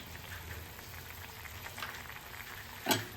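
Fish curry gravy coming to a boil in a pot: a soft, continuous bubbling simmer close by, ending with one sharper pop near the end, with no talking.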